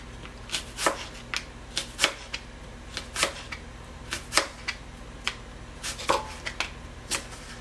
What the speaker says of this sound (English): First of all, I will cut this apple kind of half circles.